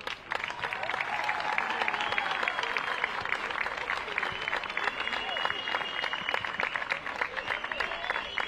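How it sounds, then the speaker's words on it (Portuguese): Sustained crowd applause for Sport Lisboa e Benfica at the Carla Couto women's football tournament final against Estoril Praia: dense, steady clapping fills the whole stretch, with scattered cheers and voices mixed in underneath. "Uma salva de palmas para o Sport Lisboa e Benfica"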